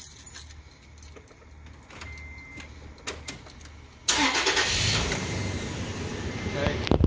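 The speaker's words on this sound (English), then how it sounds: "Let's go ahead and fire the truck up." A truck engine cranks and catches after keys jangle in the ignition, the motor then idling loudly and close by with a steady rumble.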